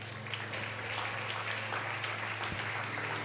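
A church congregation claps and cheers in a steady, dense wash of applause filling a large room, with no pauses and no clear voices over it.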